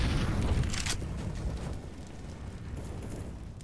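Grenade blasts in Counter-Strike, a loud booming burst up front that decays into a rumbling, crackling tail over a few seconds, with no voices.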